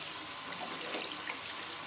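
Water runs steadily from a tap into a sink while oily scrub is rinsed off skin, a soft continuous splashing hiss at close range with no talk.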